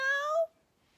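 A single drawn-out cat meow, close and clear, fading out after about half a second into near silence.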